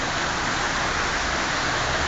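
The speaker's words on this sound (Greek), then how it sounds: "Φοβερή βροχή." Heavy rain pounds a moving car during hazardous driving conditions, a loud, unbroken hiss of downpour drumming steadily across the whole clip.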